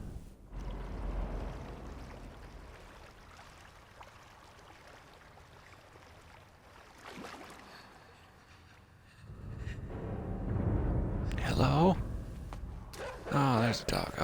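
Watery splashing and sloshing as a character swims through water in the video game Inside, with low rumbling ambience and a few sharper splash bursts near the end.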